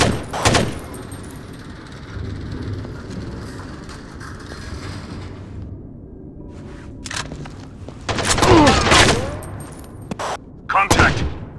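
Gunfire in Rainbow Six 3: Black Arrow on Xbox: a loud opening shot, then a steady rumble, then dense bursts of rapid fire with ricochet whines, broken by short gaps and a final flurry, with voices calling out over the shooting.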